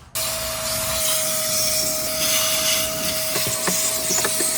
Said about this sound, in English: Vacuum this up.